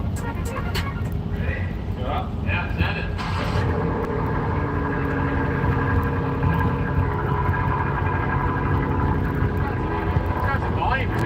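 A car engine revving through a new AWE Track exhaust, a steady loud drone with rising tones, heard from nearby while people talk briefly over it.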